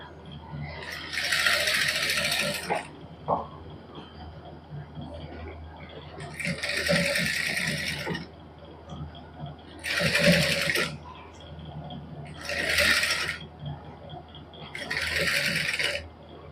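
Domestic sewing machine stitching a decorative neckline design with five colours of thread in a Punjabi boutique, in five loud, close bursts of rapid whirring stitching separated by short pauses with light handling noise.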